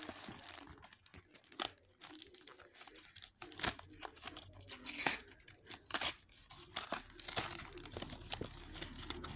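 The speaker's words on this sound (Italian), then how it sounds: "Iniziamo a spacchettare. Vai, spacchetta tu." Packets of football trading cards and stickers are torn open and crinkled by hand in a quiet room, with close rustling and sharp tearing bursts in an irregular rhythm.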